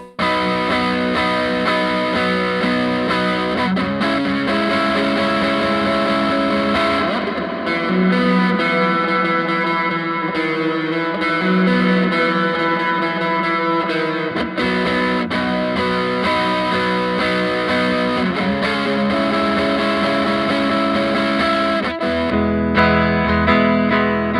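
An overdriven electric guitar through a plate reverb plays sustained, gritty chords with a spacious reverb tail, loud and continuous, changing chords every few seconds.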